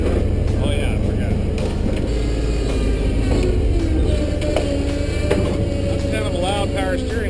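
A loud power steering pump whines on an off-road vehicle in the desert, a steady thin tone over constant low engine rumble, with people talking.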